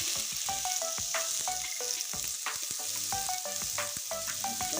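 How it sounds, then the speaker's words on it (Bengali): Raw green tomatoes fry with salt in a pan, a steady close sizzle with the light scrape and clink of stirring running throughout, no voices. "হলুদ দিয়ে আমি টমেটোগুলো সুন্দর করে ভেজে নেবো"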